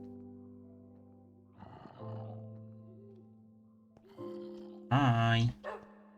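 A dog barking in the Minecraft video game, heard as a few short synthetic barks spread across the clip, the last one loud and sustained, over a low tonal game background.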